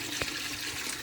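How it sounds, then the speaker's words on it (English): Three liters of water pour steadily into a canning pot, a continuous close rushing splash with no breaks. "Pour 3 liters of water in"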